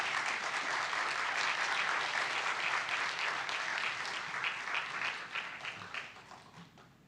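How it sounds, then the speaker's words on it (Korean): A church audience at an anniversary revival meeting in Dallas applauds to welcome a visiting pastor. The clapping is dense and steady, loud at first, then slowly thinning and fading over about seven seconds. "함께 박수로 우리 목사님 환영하고 말씀 나누겠습니다"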